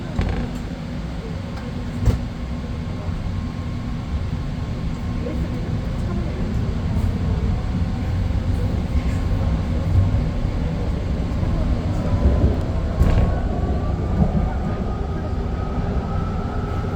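A BART Fleet of the Future Orange Line train pulls away from 19th Street, Oakland, heard from the cab as a steady low rumble of motors and wheels with a rising whine near the end.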